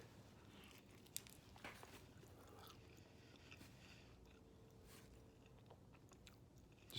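Soft, close chewing of food with faint crunching and biting noises, steady and quiet, by someone recovering from surgery who has lost smell and taste; no speech.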